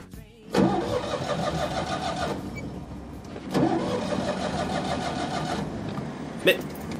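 A van engine cranks and fails to start in Persona 5 anime, with three bursts of starter cranking separated by short pauses, a sharp click near the end, and voices present.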